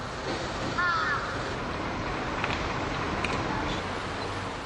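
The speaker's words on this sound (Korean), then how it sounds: "냄새를 맡고 달려드는 까마귀 떼에 시민들은 공포를 느낄 정도다." A flock of crows gathers at food waste on a city street in Japan, with a couple of harsh caws rising briefly over a loud, steady outdoor rumble of traffic and wind.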